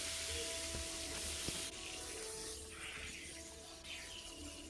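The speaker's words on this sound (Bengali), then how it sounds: "এবারে আমি কড়াই বসিয়ে দিয়েছি, মাছের মাথা ভেজে নেব।" Fish head sizzling in hot mustard oil in a wok for a Bengali dish, a steady loud hiss and crackle filling the whole stretch with no talk over it.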